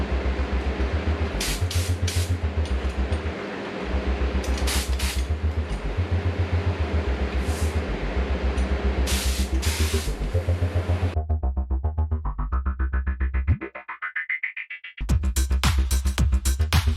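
PVA release agent sprayed in several coats onto a carbon fiber wing mold for a car, a steady loud hissing spray in long bursts with brief pauses between passes.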